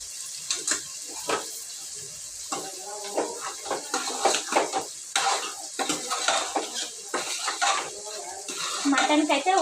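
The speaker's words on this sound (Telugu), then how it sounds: "ఉప్పు కారం పసుపు అన్నీ పట్టేలాగా కలుపుకోవాలి" A spoon stirs mutton curry in a metal pot, giving repeated close scrapes and clinks against the sides in an uneven rhythm, with soft cooking sizzle and brief faint voice in the background.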